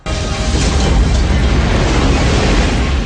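A loud, sustained explosion roar from the film Independence Day, a dense booming rumble that fills the whole few seconds without any voices.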